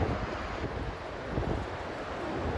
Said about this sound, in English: The wind is probably blowing 40 miles an hour.